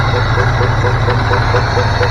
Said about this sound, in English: Hear a little bit of an exhaust leak